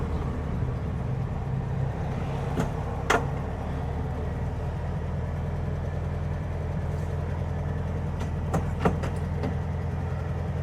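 A 1957 VW Beetle with a rattle being tracked down drives along, its engine a steady low drone from inside the car, with a few sharp clicks and knocks breaking through.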